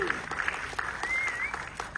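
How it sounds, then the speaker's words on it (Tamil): Audience clapping at a film press conference and special screening, a brief steady patter of applause mixed under a voice speaking over it. "ஒரு பெரிய கைத்தட்டலோட"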